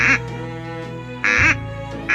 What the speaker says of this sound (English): a duck's quack doesn't echo